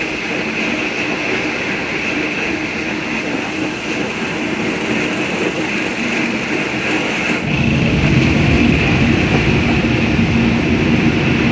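A Shalimar Express passenger train running at speed in heavy rain, its loud continuous rumble and rail noise steady throughout and growing heavier partway through.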